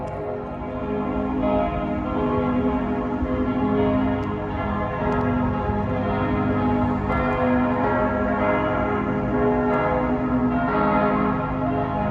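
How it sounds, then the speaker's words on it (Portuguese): Church bells in Zurich, Switzerland ring continuously with layered, overlapping tones, loud and sustained throughout, no talking. "Esses sinos não param. Faz muito tempo que tá tocando sinos."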